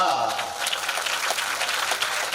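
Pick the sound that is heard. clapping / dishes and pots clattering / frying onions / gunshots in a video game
clapping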